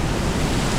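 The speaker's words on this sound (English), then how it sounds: "That's the waterfall." La Paz Waterfall Garden in Costa Rica, heard from behind the falling water: a loud, constant broadband roar of cascading water with no breaks and no voices.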